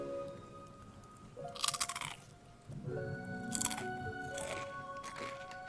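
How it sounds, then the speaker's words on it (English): A heavy barbecue-flavored potato chip being bitten and chewed up close, two loud crunchy bursts about two seconds apart with smaller crackles after, over a faint hum. "It's a good crunch, guys."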